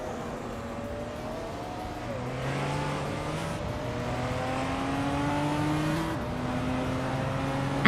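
Racing video game with a 1996 Lamborghini Diablo Iota at Wakefield Park: continuous engine whine rising in pitch through gear changes, with several cars revving and accelerating together, loud and steady with no talk.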